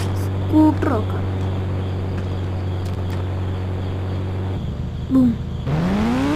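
A scooter in a speed test: a steady, buzzing engine drone holds for several seconds, then drops away and a rising, whining acceleration sweeps upward at the end, loud and close.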